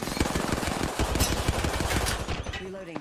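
Apex Legends firefight with dense, rapid automatic gunfire bursts, loud and close, run together in a quick rattling stream that tapers off near the end.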